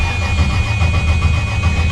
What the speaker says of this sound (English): Is that engine knock or exhaust leak? It definitely sounded like an engine knock